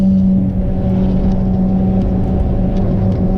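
A Ford Fiesta's engine drones steadily and loud at close range on the Castle Combe race circuit, a sustained in-car rumble with a constant tonal hum and no break.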